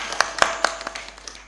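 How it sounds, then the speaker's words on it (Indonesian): A small audience gives brief applause, a few sharp, distinct hand claps at the start that quickly thin into scattered, fading claps within a second or so. "Tepuk tangan untuk seluruh kru Bandung Bondowoso"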